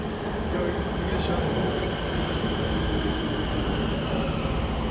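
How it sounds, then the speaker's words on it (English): An LA Metro Red Line subway train bound for North Hollywood gives a steady, loud rumble and roar in the station throughout, with a brief squeal of wheels. "Here we got a train going to North Hollywood."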